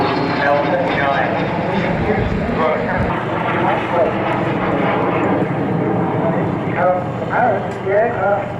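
An L-39 jet aircraft lands on the tarmac, heard as a continuous loud engine roar for the full length under an announcer's voice talking over it.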